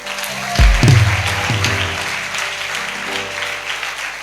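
A church congregation bursts into applause during a Sunday service, a loud swell of clapping that fades into a steady, lighter patter, with a voice briefly heard beneath.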